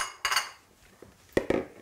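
A spoon clinks against a bowl while almond milk is stirred into porridge, giving a few sharp, close taps and scrapes spaced out over a quiet background.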